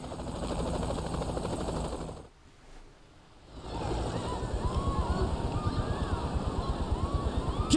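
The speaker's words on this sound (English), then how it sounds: "that's like Saints Row's version of the Skylift, Sky Crane helicopter" A Sky Crane style heavy-lift helicopter in Saints Row The Third Remastered drones with a steady rotor thump, briefly dropping out before returning loud and continuous.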